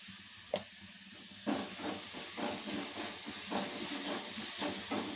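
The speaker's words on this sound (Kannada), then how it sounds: "ಇವಾಗ ಒಂದು ಅರ್ಧ ಟೀ ಸ್ಪೂನಷ್ಟು ಜಿಂಜರ್ ಗಾರ್ಲಿಕ್ ಪೇಸ್ಟ್ನ ಹಾಕ್ತಾ ಇದ್ದೀನಿ." Ginger garlic paste sizzling in a pan of frying mutton brain, a steady close hiss with soft crackling pops that swells after a brief clink and stays constant, no talking.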